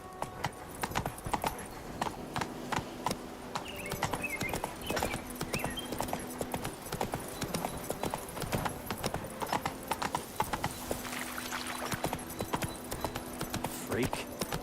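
Horse galloping in the video game Witcher 3, a steady rhythmic clip-clop of hooves running throughout, close and continuous, with a voice talking over it.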